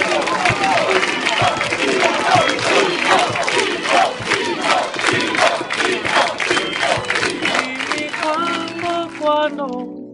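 A large crowd in Naples cheers and applauds in tribute to Pino Daniele, with loud sustained clapping, shouts and chanting voices filling the space throughout before a tonal sound emerges near the close.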